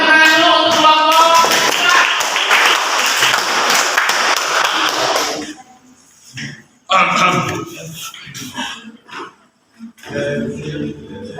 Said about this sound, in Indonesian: silakan berikan tepuk tangan dulu untuk kelompok